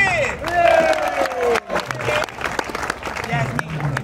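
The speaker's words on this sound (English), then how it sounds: "Everyone clap for the kid!" A comedy festival audience applauds and cheers for a child, clapping spread across the clip, with loud voices and a rising shout over the noise.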